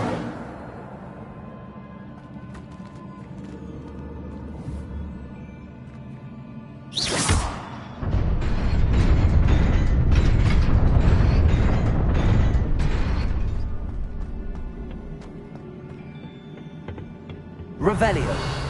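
A fire spell cast in Hogwarts Legacy bursts with a sharp whoosh, then swells into a long, loud, roaring crackle of flame that slowly fades, followed by another sudden burst near the end; no talking during it.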